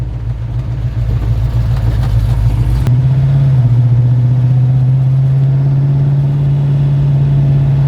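Muscle car fitted with an M/E Wagner dual flow PCV valve on a test drive, its engine a loud, steady drone close by with a shift in pitch partway through, then a sustained cruising tone.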